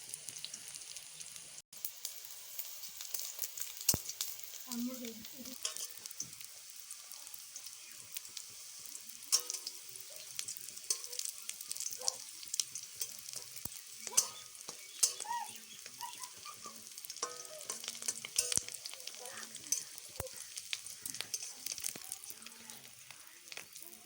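Fish roe fritters made with puffed rice sizzle and crackle in hot mustard oil, a soft continuous frying hiss with scattered pops and faint stirring sounds, fairly quiet and close.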